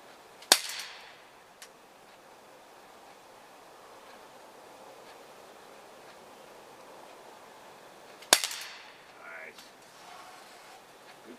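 A CO2-powered air gun fires two sharp, clean shots several seconds apart, each followed by a brief hissy tail over quiet outdoor background.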